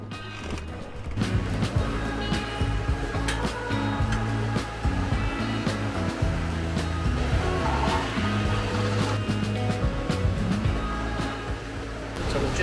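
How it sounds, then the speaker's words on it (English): Ocean swell washing and slapping around a sailing boat rocking at sea in a 4 metre swell, a steady rushing of water with irregular knocks and creaks, loud and close. "Rocking in the swell."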